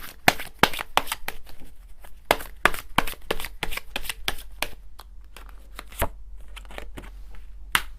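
Tarot cards being shuffled by hand during a reading, with repeated sharp riffling bursts and soft slaps in irregular rhythm, close and crisp in a quiet room.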